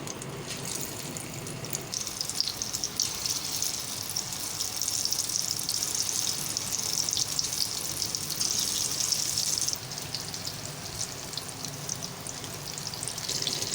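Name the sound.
moong dal pakoras frying in hot oil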